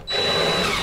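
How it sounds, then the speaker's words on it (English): Power drill fitted with a 1/8-inch bit drilling into a Ford truck door handle, a brief, steady high whine heard close up and on its own. "And then I got an 1/8-inch drill bit."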